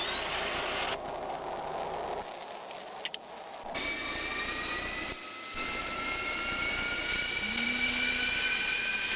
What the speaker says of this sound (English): Seconds later, the engine is up to idle speed